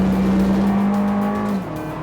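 A Volkswagen Vento Cup race car drives hard on track, its engine a loud steady drone heard from onboard that drops in pitch and eases off toward the end.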